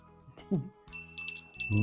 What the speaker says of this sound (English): Shelley, take us out with a bell.